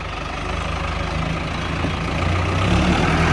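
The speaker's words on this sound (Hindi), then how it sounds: "और अब देखिएगा इसकी आवाज़। ये हमारे महिंद्रा अर्जुन नोवो, लेकिन ये DI है।" A Mahindra Arjun Novo DI tractor's diesel engine chugs at a steady idle nearby, a deep rhythmic rumble that swells slightly louder toward the end.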